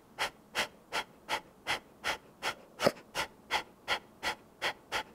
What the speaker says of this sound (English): Big breath in. Exhale.